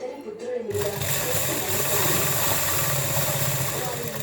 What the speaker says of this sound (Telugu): దీనికి డాట్స్ పెట్టుకున్న తర్వాత వెనుక భాగం స్టిచ్చింగ్ చేసుకుందాం